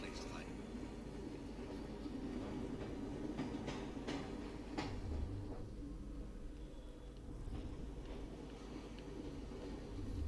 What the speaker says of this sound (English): That's my train, man.